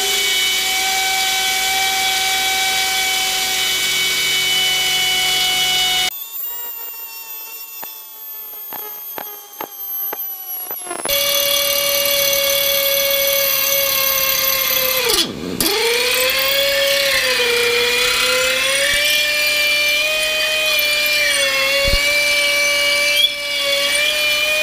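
Air-powered drill boring through an LS engine block, a steady high-pitched whine with strong tonal harmonics that briefly cuts out, then resumes with pitch dipping as the bit loads up, close and loud.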